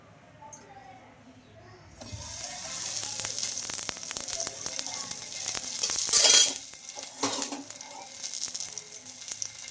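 A poha tiffin pancake sizzles and fries in an oiled pan as it is turned and roasted on both sides, with a steady crackle, occasional scraping and stirring knocks, and one louder burst of spatter midway.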